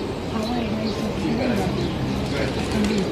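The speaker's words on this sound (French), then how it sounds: "sur la pierre, il y a tout plein d'oiseaux" Pigeons perched on stones at the Oceanogràfic aquarium coo in soft, repeated low notes, half buried under a steady wash of crowd noise and murmuring voices.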